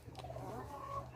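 Chickens clucking at home in a small backyard flock, a steady low murmur of soft clucks and fowl calls close by, with no talking over them.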